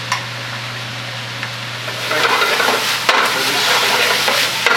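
Pork bites browning in a frying pan, a steady close sizzle with stirring scrapes that grows louder and busier halfway through, with no talking.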